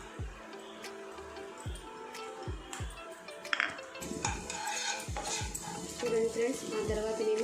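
Finely chopped ginger and green chillies in hot oil in a non-stick pan, with a soft sizzle under repeated clinks and scrapes of a spoon stirring against the pan.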